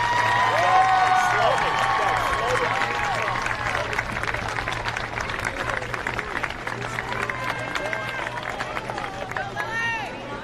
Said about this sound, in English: would you please give a round of applause to our 2021 homecoming court